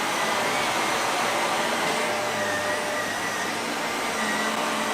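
A Shark Navigator Lift Away Deluxe NV360 upright vacuum cleaner runs continuously with a steady, loud motor roar and airflow hiss, with no speech.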